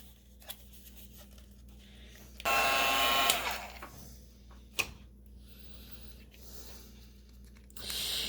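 A hair dryer blows on a small painted craft frame coated in oils, a loud steady rush for about a second before cutting off, with quiet handling clicks and taps around it.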